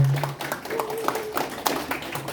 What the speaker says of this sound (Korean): 박수 부탁드릴게요